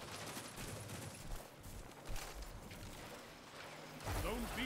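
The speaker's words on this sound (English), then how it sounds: "these two burst pulse rifles are so much fun." A burst pulse rifle fires rapidly in a video game, with dense mechanical rattling bursts running continuously under a loud, busy mix of game effects.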